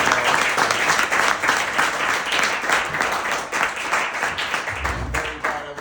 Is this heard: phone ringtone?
no